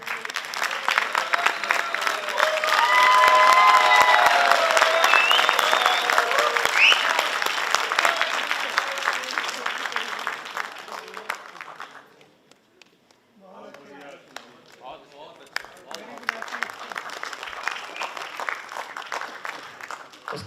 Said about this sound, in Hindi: जोरदार तालियों से इस्तकबाल कीजिए आशीष